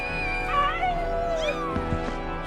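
Cat meowing in the video game Final Fantasy VII Rebirth: a few soft, drawn-out, wavering mews over a quiet musical background, faint and close.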